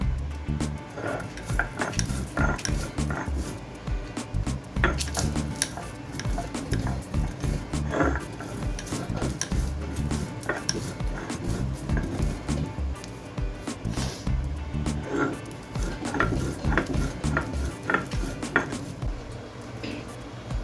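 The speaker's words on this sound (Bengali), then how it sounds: "এই রোস্ট করা মশলাটা এবার একটু শিলে গুঁড়ো করে নিচ্ছি" Roasted spices for an Indian amla (Indian gooseberry) pickle are ground by hand on a flat stone slab (shil), giving a steady, close, rhythmic scraping and grating that runs throughout with small clinks and knocks.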